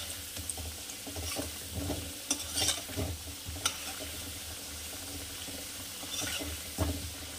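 Potatoes frying in oil in a pan and being stirred, with a steady close sizzle broken by scraping stir strokes and small clatters, no voices.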